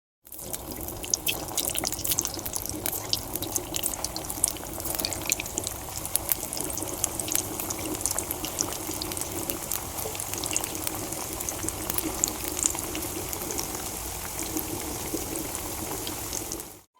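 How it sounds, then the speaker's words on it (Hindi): Soybean chunks frying in hot oil, likely mustard oil, give a steady, dense crackle and bubbling hiss. It runs nonstop for the whole stretch at an even level, with no voices. "अब इसे एक एक करके हम तेल में डाल के इसे हम फ्राई कर लेंगे"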